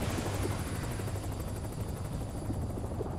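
A helicopter flying outside in the video game Duke Nukem Forever, a loud, close, steady rotor chop and turbine drone filling the short moment with no voices over it.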